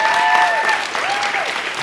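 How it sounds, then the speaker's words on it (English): Loud, dense audience applause at a talks event, continuous clapping close and full from start to finish, with a faint whistle-like tone riding over it. "So can we get a round of applause for Sefa?"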